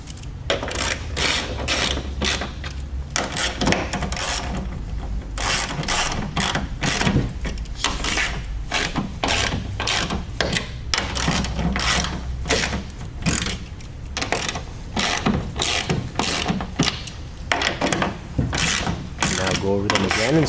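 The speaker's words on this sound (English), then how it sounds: "take a 3/4 inch socket and tighten those in a specific pattern" A ratchet with a 3/4 inch socket tightens bolts on a bearing and seal housing, a steady run of loud, rapid clicking bursts repeating throughout with brief pauses between strokes.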